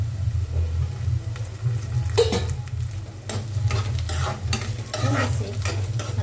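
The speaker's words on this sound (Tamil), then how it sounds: "நல்லா வதக்கிக்கலாம்" Onions and garlic sautéing in a pan for a garlic kuzhambu, a continuous sizzle with a low rumble and bursts of scraping and stirring from a spoon, close by.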